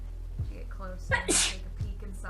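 A person sneezes once, loud and close, in the middle of a stretch of speech, as voices talk before and after it.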